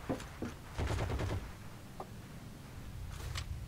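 Semi-automatic sniper rifle firing in the WWII video game Heroes & Generals: several sharp gunshots in a quick cluster, then a lone shot and later another burst, loud over constant game ambience.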